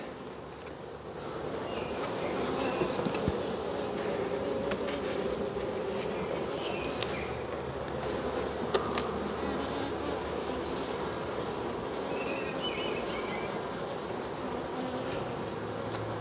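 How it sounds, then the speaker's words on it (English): Honey bee drones buzz around an open hive during a spring inspection, a dense, steady swarm hum that carries on without a break, with a few brief knocks and handling sounds. "Get out of there, drones."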